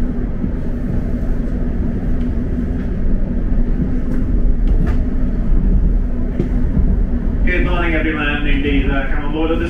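A Southwestern Railway train, unit 701043, rumbles and hums steadily as it departs a station serving Windsor and Eton Riverside, with a station announcement voice coming in near the end.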